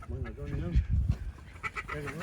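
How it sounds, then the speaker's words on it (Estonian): Small ducklings calling with quick quacks inside a poultry house, mixed with other fowl sounds and a voice talking over much of it at close range. "Siin on väiksed pardikesed ka."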